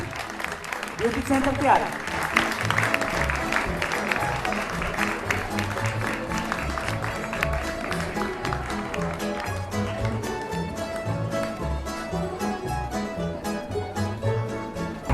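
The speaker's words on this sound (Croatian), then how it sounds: "Idemo s pljeskom ih nagraditi." An audience applauds at a hairstyle fashion show during a flower festival in Split, steady sustained clapping throughout with a voice speaking briefly over it near the start.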